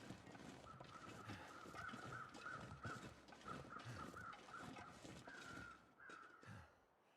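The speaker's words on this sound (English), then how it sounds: "That's the weather crows." Crows in The Long Dark game caw repeatedly in a steady series, a clear string of harsh calls over a wintry wind-like ambient bed with faint footstep crunches.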